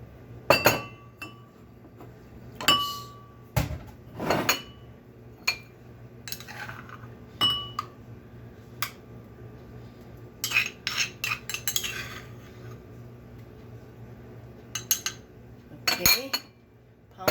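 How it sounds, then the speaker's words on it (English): Pounded banana mixture is scooped into a bowl, giving a scattered run of sharp clinks and taps of utensil against glass and dishware. The knocks are close and fairly loud, separated by quiet gaps, with no voice. "I'm going to scoop it down into the bowl here"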